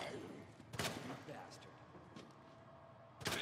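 Pistol gunfire in the survival horror game Resident Evil 2 Remake, a couple of sharp shots a few seconds apart that stand out loudly over a dense game soundscape, with someone talking throughout.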